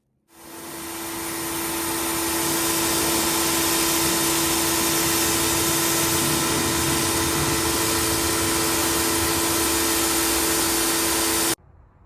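A water sprayer rinses a small home porch clean, giving a loud, steady motorized hiss and whine that starts abruptly, holds constant for about eleven seconds, then cuts off.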